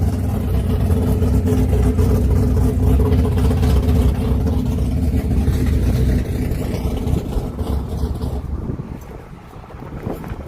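A race car engine held at full throttle on a track, a loud continuous roar with heavy wind buffeting that eases slightly near the end.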